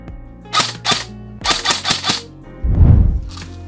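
ICS CXP APE airsoft gun firing BBs, loud sharp shots in a quick series of about six or seven, followed by a heavier low thump, close up with no talk.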